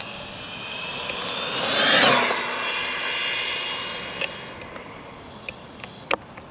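An RC car with a Castle 2650kv motor on 4S speeds past as a high electric whine that swells to a peak and fades with distance. A few faint ticks follow afterward.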